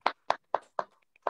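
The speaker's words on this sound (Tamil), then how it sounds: "ஒரு கிளாப் பண்ணணும்." Slow, evenly spaced hand claps, about five crisp and close strikes with silence between them, sounding like a single pair of hands or a very small group at a Tamil talk.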